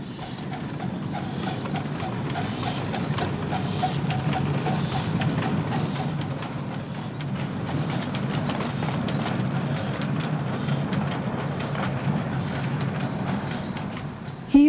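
A steady rumble and clatter from a summer tourist train ride at a small railway, heard continuously from on board for a long, even stretch.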